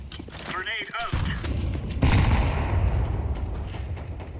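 Gunfire and a grenade blast fill a video game match, with a player speaking briefly over the shots before dense, rumbling explosive fire takes over and continues loud and close.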